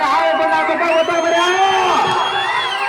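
Large outdoor crowd at a village bull pulling contest shouting, whooping and cheering loudly and continuously, a dense wall of voices throughout.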